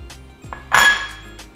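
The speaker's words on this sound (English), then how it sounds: "And give that a little mix." Unsweetened shredded coconut being stirred into a bowl for a no-bake paleo bar, a few light clinks and one louder scrape of a utensil against the bowl, brief and close.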